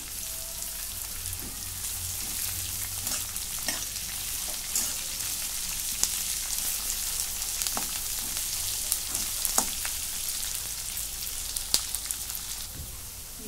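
Curry leaves sautéing in a pan give a moderate, crackling sizzle with scattered sharp pops and a few utensil clicks over a steady background for several seconds, with no talking.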